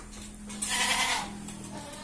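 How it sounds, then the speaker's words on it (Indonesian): Goats on a dairy goat farm, mother goats with newborn kids a few days old, with one clear, wavering bleat rising in the middle over a soft steady hum, moderately close. "kali ini kami akan tunjukkan indukan yang baru saja beberapa hari melahirkan anak kambing ya"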